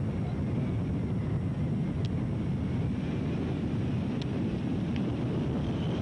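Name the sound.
wind blowing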